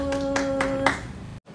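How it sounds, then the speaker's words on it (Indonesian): Children clap their hands during a children's church worship service, a few quick loud claps in a short burst with a sustained tone underneath, then a brief drop to silence. "Tepuk tangan buat Tuhan"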